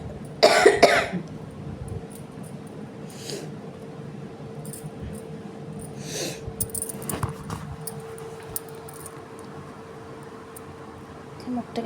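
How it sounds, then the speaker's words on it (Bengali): A woman suffering from a cough of several days coughs in a short, harsh burst near the start, followed by quieter rustling and a few faint throat sounds and clicks. "ভীষণ কদিন ধরে কাশি হয়েছে"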